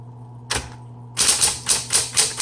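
A 1970s Smith Corona Coronet Electric 12 typewriter clacks sharply and close: one isolated strike, then a steady run of five rhythmic keystrokes with no voices.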